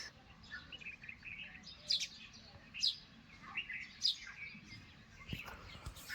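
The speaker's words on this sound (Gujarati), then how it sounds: "જો ચકલી આવી ગઈ ચણ ખાવા." Sparrows eating grain chirp in short bright bursts, a few distinct calls spaced about a second apart over a quiet background.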